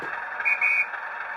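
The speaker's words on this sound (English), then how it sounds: "we'll just play that, we'll get the guard whistle" A short, shrill guard whistle sound effect from a Bachmann class 37 model locomotive's DCC sound decoder sounds twice in quick succession, clear and steady over a faint background hiss.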